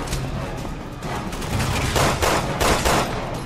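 Pistol fire from Resident Evil 6 rings out as a rapid string of loud, sharp shots over a busy game-sound backdrop, several bursts piling up close together.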